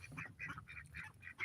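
Ducks in a farm pen give a series of about six nasal quacks in quick, uneven succession, fairly close and faint, with no talking over them.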